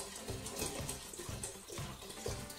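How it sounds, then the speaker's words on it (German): Vodka from a 0.7 litre bottle is poured into a pot on a stovetop, giving a steady splashing, gurgling liquid stream that runs continuously at moderate, close loudness without speech. "jetzt können wir den Wodka reinfüllen"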